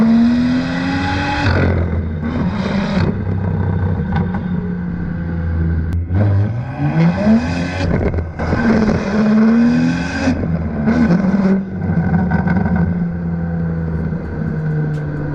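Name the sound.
sports car exhaust revving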